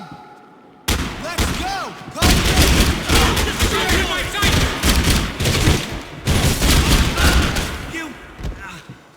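Dense, sustained gunfire from a Max Payne 3 shootout, with rapid bursts and heavy impacts that run almost continuously at close range while a voice shouts over the barrage.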